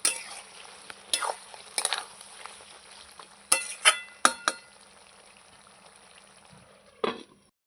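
Mutton being sautéed and stirred in a pan, kosha style, gives a faint sizzle broken by several sharp scrapes and clinks of the spoon against the pan, close by and irregular.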